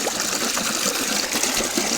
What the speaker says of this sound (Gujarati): ખડખડ ખડખડ પાણીનો અવાજ આવે